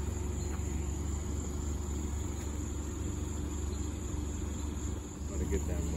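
A custom car's exhaust idles steadily with a fresh muffler, a low continuous engine rumble running throughout, fairly close and even, with faint insect chirps in the background.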